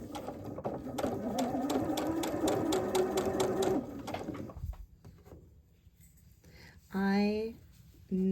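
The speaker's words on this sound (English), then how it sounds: "I sew over my pins, and I'm okay with that." A sewing machine stitches a curved quilt block over pins in a steady close run of rapid needle strokes that stops midway, after which a voice speaks briefly.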